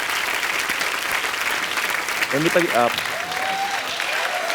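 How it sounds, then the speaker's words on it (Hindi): A television comedy show audience claps loudly and continuously, with a short spoken line and a few sung or called-out tones rising over the applause midway. "जोरदार तालियां हो जाए एक बार।"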